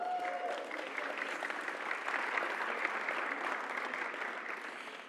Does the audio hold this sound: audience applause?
yes